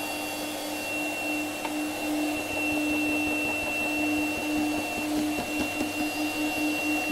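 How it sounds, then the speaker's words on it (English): A vacuum cleaner sucks light trash out of bilberries, holding a steady whining hum with an odd tone, while a rough crackling rattle of debris rises through the middle and end. "now the vacuum is having like a weird sound."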